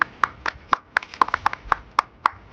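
A handful of people clap for the second-place winner at a casual prize handout after a coffee challenge, with crisp, fairly steady claps up close and no voices.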